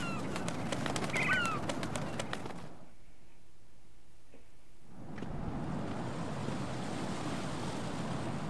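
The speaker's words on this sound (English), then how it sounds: "Don't go away, seagulls." Seagulls call in Metal Gear Solid 2: Sons of Liberty, a few short cries over steady surf and ocean wash, then the sound drops out briefly before the waves return.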